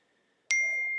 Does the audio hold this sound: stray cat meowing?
no